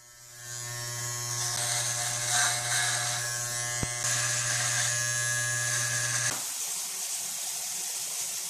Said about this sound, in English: it's starting to get really hot outside, so I think it's time to shave